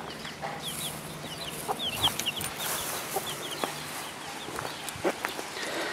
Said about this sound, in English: there's a mother and chickens, only two